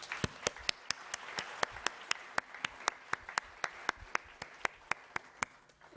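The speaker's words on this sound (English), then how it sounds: "Let's give all our nominees a big round of applause." Applause for business award nominees at the 2017 Spike Business Awards, a thin, quiet crowd patter with one loud nearby clapper striking in a fast, even rhythm.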